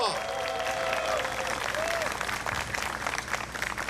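A crowd at a Korean labor union rally applauds a lawmaker, a sustained wash of clapping with some cheering and voices mixed in, while a faint sustained tone rises and falls early on.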